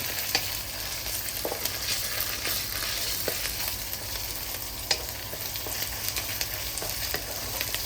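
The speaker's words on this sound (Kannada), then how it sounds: "ಜಿಂಜೆ ಗಾರ್ಲಿಕ್ ಪೇಸ್ಟ್ ಹಾಕಿ ಒಳ್ಳೆ ರೀತಿಯಲ್ಲಿ ಫ್ರೈ ಮಾಡ್ತೇನೆ" Ginger garlic paste frying in a pan, a steady close sizzle with intermittent spatula scrapes and small ticks, no voices.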